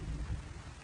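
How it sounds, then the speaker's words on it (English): Rain falls in a steady, dense wash with a low rumble underneath, constant and fairly loud, no voices present. "Trust me, it's the rain."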